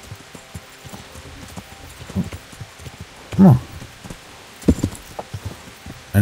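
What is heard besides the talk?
horse hooves while riding, from video game Kingdom Come Deliverance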